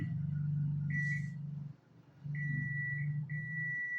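Steady high electronic beeps from a multimeter continuity test on a coil while diagnosing a dead phone sound in two stretches, close by, over a low humming background.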